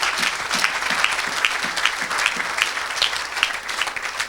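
Applause and cheering from a church congregation at an evangelistic gathering, a steady dense clatter of many hands clapping with a few louder bursts, sustained throughout.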